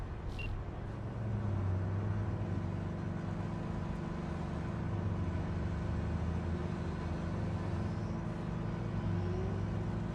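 Cars in Cyberpunk 2077 driving through a city street, a steady low engine and road rumble with vehicles passing by at moderate distance, continuous and fairly quiet, with no voices.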